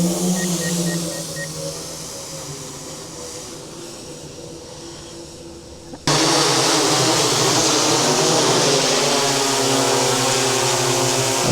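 DJI drone buzzing overhead, first a moderate whine in normal mode, then abruptly jumping to a much louder, harsher sport-mode roar that holds steady to the end.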